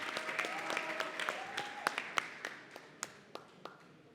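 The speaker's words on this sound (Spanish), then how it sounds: "Un aplauso, por favor." Applause at a student reading event at FLAC Neza 2024, thinning out into scattered individual claps as it dies away, with faint voices underneath.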